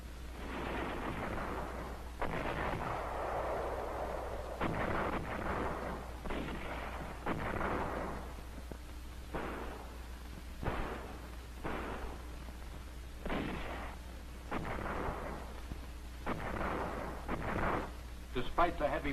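Heavy naval and artillery bombardment during the Saipan landing, a long series of deep booming blasts every second or two over a steady low rumble, loud and distant-sounding, with a narrator's voice underneath.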